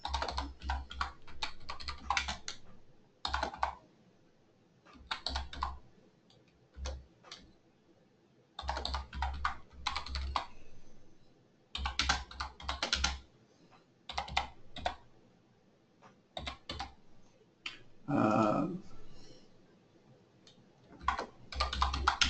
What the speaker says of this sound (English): I am going to then type in the payment address.